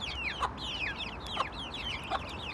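Chickens cluck in bird chatter at a home coop where eggs are hatching into chicks; the repeated clucks rise above a steady noisy background over a few seconds, with no talking.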